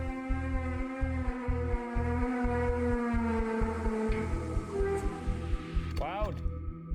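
Strange trumpet-like sky sounds heard early in the morning over Terrace, British Columbia, a loud sustained tonal drone with pulsing low throbs lasting throughout, with brief talking over it near the end.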